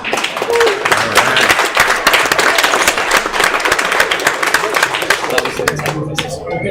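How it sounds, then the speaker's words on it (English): Audience applause at an Earl Strickland 9-ball pool exhibition, a dense wash of clapping from a crowd that carries steadily for several seconds and thins slightly near the end, with some voices mixed in. "I think you should give him a round of applause"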